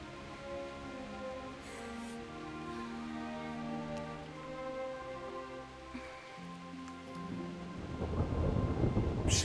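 Steady rainfall with rumbling thunder in a medieval thunderstorm in Kingdom Come: Deliverance, with low tonal music layered throughout and the storm swelling louder toward the end.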